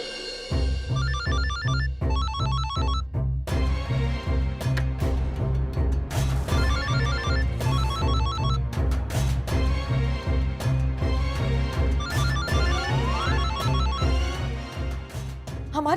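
A phone rings with a repeated melodic ringtone pattern, steady and fairly clear, playing over dramatic background music in a car scene.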